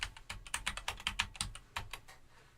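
Brisk typing on a computer keyboard, a run of crisp, close keystrokes in quick uneven rhythm that trails off near the end, no voices.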